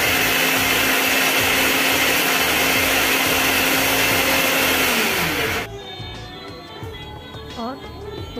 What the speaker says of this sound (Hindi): मिक्सी में मसाले को पीस लेते हैं।